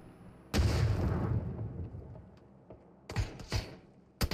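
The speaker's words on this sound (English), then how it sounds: "It's gonna explode very soon." Loud explosion in the PUBG video game, a deep booming blast with a long rumbling decay, followed by a few sharper gunshot-like pops.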